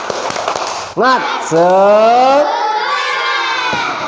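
A school class at a lesson does a spirit clap cheer, loud and close: a brief patter of hands, then the children shout a drawn-out chant together, followed by more sustained group voices.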